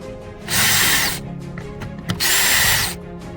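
A power drill whirs in two short bursts, spinning up loudly, easing off briefly, then revving again close by, while working on a car seat lever in a 2001 Chevy Venture.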